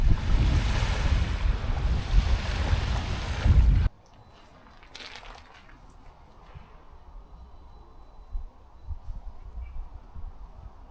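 Surf rolls onto a beach at Koh Rong in Cambodia, loud and buffeted by wind for a few seconds, then cuts to a much quieter shoreline where soft, distant waves wash in and out.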